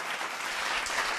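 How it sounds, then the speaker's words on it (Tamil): Audience applause fills a hall at a Tamil children's speaking competition, a dense steady roar of clapping that holds at an even loudness throughout, with no voices over it. "அரங்கு நிறைந்த பாராட்டு"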